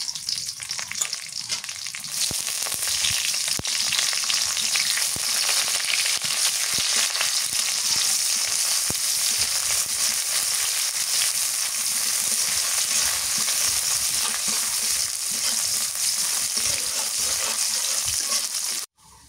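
Chopped onion with black cumin frying in mustard oil gives a close, continuous sizzle that holds steady for nearly twenty seconds before cutting off at the end, with no talk.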